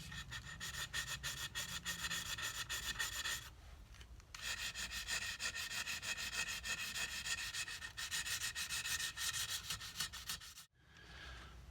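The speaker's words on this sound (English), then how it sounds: "I'll wrap the sandpaper around the file, and that kind of helps to get into these hard to reach places" Sandpaper wrapped around a file rubs back and forth on the wood of a cigar box guitar in quick, even strokes, close and soft, with a short pause partway through and no voices.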